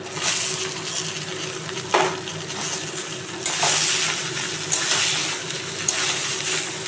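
Ash gourd pieces mixed with chopped green chilli tip into a hot frying pan, setting off a steady broad sizzle broken by a few sharp clinks and scraping knocks from the pan.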